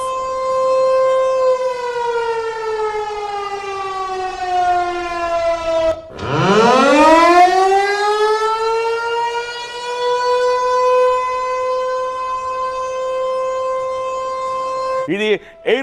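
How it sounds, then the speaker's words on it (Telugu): An air raid warning siren sounds during a civil defense drill, a loud wailing tone that slowly falls, drops out briefly, then rises sharply and holds steady before dipping again near the end. "ఈ సైరన్ వినగానే మీరేం చేస్తారు?"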